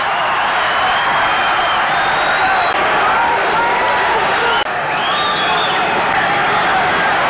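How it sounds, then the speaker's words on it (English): Hometown crowd at a Virgil Hill vs Frank Tate boxing match roars continuously and loudly, a thick wall of cheering with a commentator talking over it. "The hometown crowd."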